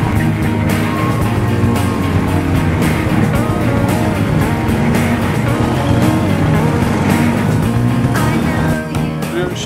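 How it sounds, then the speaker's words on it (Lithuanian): Motorcycles riding together at a Lithuanian motorcycle club season-opening meet, a loud, continuous engine roar with steady rumble and occasional revving, close and sustained throughout. "Suvažiavome pasivažinėti automobilį, tai yra motociklas"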